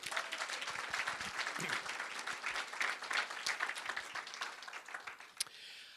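A lecture hall audience gives a round of applause for a university speaker, a thick, continuous wash of clapping that stays steady and then thins slightly near the end, with no talking over it.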